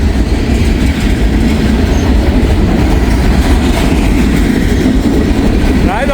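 A freight train of boxcars rolls past a crossing, a loud continuous rumble with rapid wheel clatter, close and steady throughout, with a brief squeal near the end.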